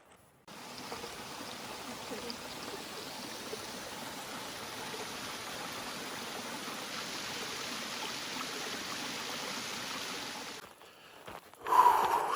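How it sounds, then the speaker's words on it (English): A river flows steadily beside a hiking trail, with a broad, continuous rushing wash of water that holds level for about ten seconds. It then drops away briefly before a short louder sound at the end. "We're next to a river"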